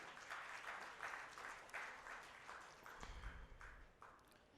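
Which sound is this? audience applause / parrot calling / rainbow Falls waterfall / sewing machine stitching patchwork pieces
audience applause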